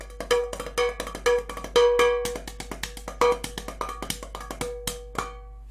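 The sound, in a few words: drumming on a metal tea tin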